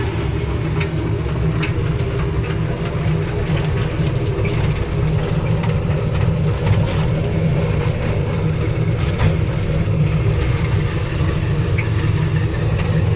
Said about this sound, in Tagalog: Maingay na yung makina.